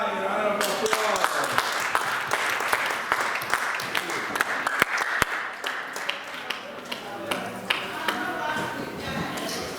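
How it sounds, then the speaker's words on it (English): Audience applause at a multicultural end-of-year family dinner, a sustained patter of clapping hands with sharp individual claps standing out and voices mixed in underneath. "Please let's give her a round of applause."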